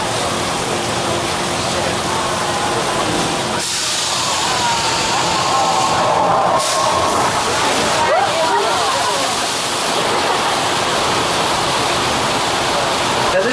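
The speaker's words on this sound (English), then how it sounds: "this effect is created by dumping thousands and thousands of gallons of water from the top of the hill and letting it rush towards us naturally" Thousands of gallons of water dumped from a hilltop rush down in a studio flash-flood effect, a loud, continuous roaring wash with surging bursts throughout.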